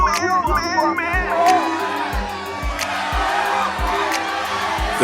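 A large crowd roars and cheers loudly and continuously, with whoops and shouts over a rhythmic low thumping beat underneath.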